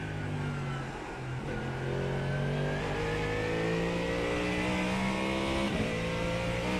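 GT3 Mustang race car engine in the iRacing sim at the Nürburgring, a loud, sustained drone climbing steadily in pitch through the gears, with a couple of brief shift dips.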